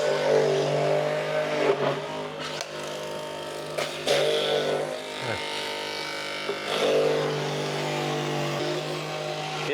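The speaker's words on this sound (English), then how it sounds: "The grinder feels really smooth." A juicer's grinder chewing through celery stalks: a steady, loud motor whine that dips and surges as the stalks are pushed in, close by and with no talking.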